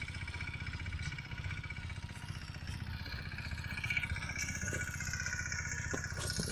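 A tractor engine running in a farm field, a continuous mid-pitched chugging drone with a steady rhythmic throb and some clatter, moderately close and unbroken throughout.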